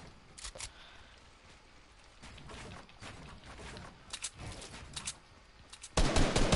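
Gunfire during a one-on-one video game match: scattered sharp shots and short rattling bursts at moderate level, ending in a louder, denser volley.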